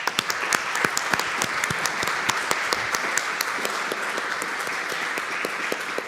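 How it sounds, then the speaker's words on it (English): An audience at a music psychology conference breaks into sustained applause, many hands clapping densely and evenly, loud and close, with no voices over it. "they deserve a round of applause"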